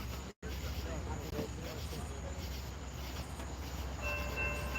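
A train rumbles past at night near the historic depot in Stevenson, Alabama, with a steady low roar of rolling cars and a brief tonal horn-like sound near the end. A voice talks faintly underneath.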